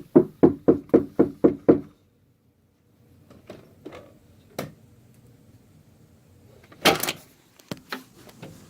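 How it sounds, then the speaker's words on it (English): A rapid burst of seven firm knocks on a residence door, close and loud, followed by quieter rustling, a few isolated thuds and a louder clatter of movement nearby; no speech. "I'm going to knock on the door."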